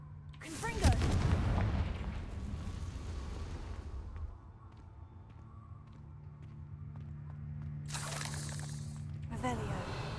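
Fire blast spell from Hogwarts Legacy erupts in a loud, booming burst with a rumbling tail that fades out, followed by sharp crackling bursts later, alongside ambient game sound.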